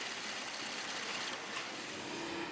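An industrial sewing machine stitching Asolo boot uppers in a factory, a continuous fast mechanical whirr heard up close and steady with no pauses.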